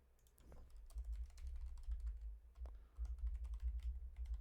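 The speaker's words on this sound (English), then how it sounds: "I actually can't type when I can't see my keyboard" Computer keyboard typing clatters in quick, irregular bursts of keystrokes, close and fairly faint, over a low background rumble, with no talking.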